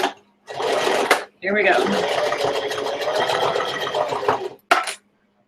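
A sewing machine stitches a bulky fabric box pouch, its steady motor whir running in two long bursts with a short pause and a brief final burst, near and fairly loud, with a voice speaking briefly.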